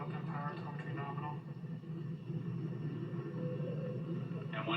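A Falcon 9 rocket lifting off with the Crew Dragon capsule and crew aboard in 2020, a steady low rumbling roar heard from a distance beneath a commentator's voice.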